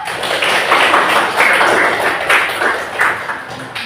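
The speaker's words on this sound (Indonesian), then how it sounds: "Tepuk tangan dulu." A classroom of students clapping their hands together, a brisk burst of many claps in loose rhythm, close and fairly loud throughout.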